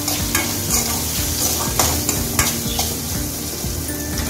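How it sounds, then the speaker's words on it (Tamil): A ladle stirs vegetables frying in a pot of gravy with added salt, giving a continuous sizzle with repeated scraping strokes against the pot, close and steady throughout. "ஒரு கரண்டி உப்பு சேர்த்து நல்லா கிண்டி விட்டுருவோம்"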